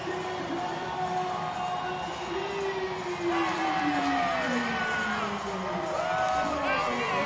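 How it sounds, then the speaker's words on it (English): A large soccer stadium crowd roars and cheers continuously after a goal, with whoops and shouted chants rising and falling across the noise. "Listen to that crowd going over to the supporters section."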